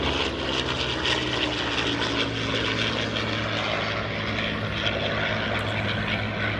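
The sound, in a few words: propeller warplane flying past, T6 or P-51 Mustang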